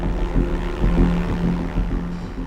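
A Navy Avenger bomber, a large single-engine propeller plane, drones steadily overhead with a low pulsing engine rumble, moderately loud and continuous.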